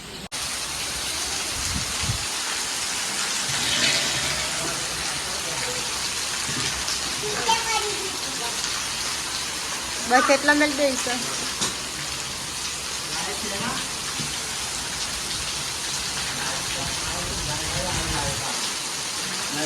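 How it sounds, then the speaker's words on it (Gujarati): Heavy rain pours down outside a house in a steady, loud, dense hiss that fills the whole scene, with people talking over it now and then. "બસ ફૂલ વરસાદ ચાલુ થઈ ગયો."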